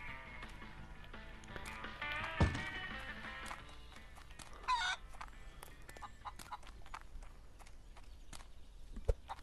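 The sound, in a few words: chicken clucking in a video game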